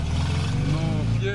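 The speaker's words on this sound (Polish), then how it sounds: "to jest dźwięk niskoobrotowego silnika" Low-revving air-cooled engine of a 1975 Zaporozhets 968 car, a steady, loud, deep drone up close that holds an even rumble throughout, with a brief higher whine near the end.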